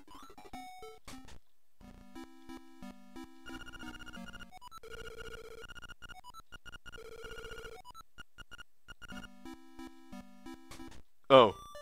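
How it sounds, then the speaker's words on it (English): Electronic phone ringing in the video game Link's Awakening, a looping chiptune ring of bright stepped tones that repeats steadily at moderate volume, ending with a brief sharp burst. "Oh, that is the hint phone man."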